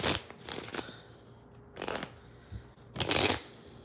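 A deck of playing cards is shuffled at close range for a card reading. There are three distinct riffling bursts separated by short pauses, with no talking.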